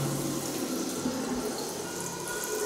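Tap water runs steadily in a school washroom with three stalls, a continuous close hiss and splash with no talk over it.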